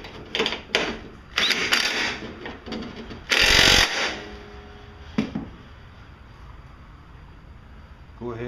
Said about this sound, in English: Go ahead and start your 12mm bolt